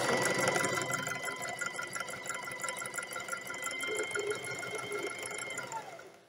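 A Singer Facilita Pro sewing machine runs close and steady for several seconds while backstitching fabric, giving a continuous rapid mechanical whir with a busy rattling stitch rhythm that winds down at the end.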